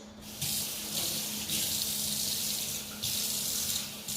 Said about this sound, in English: Use a little bit of water to get it all out.